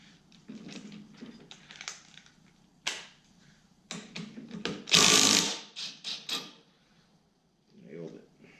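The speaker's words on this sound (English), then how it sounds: "Got my electric impact. See if we'll peel this nut off here." An electric impact wrench rattles loudly in a short burst while removing a nut during a teardown of a damaged RMK 600 snowmobile, surrounded by lighter clicks and metallic handling noises at close range.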